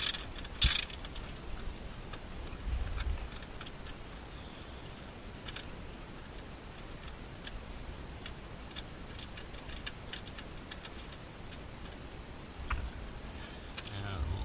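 Ratchet clicking in rapid runs while a bolt is tightened on an Infiniti QX4 during a headlight ballast replacement, close and fairly quiet, with someone talking over it.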